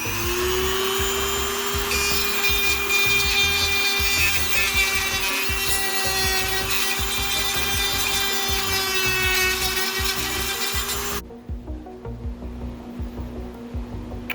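A Dremel rotary tool sanding a 3D printed figure part, a sustained high whine with shifting tones that runs loudly for about eleven seconds, then cuts off abruptly into quieter background.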